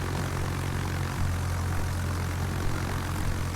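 Interceptor aircraft fly in Azur Lane, giving off a dense, steady propeller-engine roar that stays loud and unchanging throughout.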